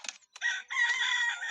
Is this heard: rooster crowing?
yes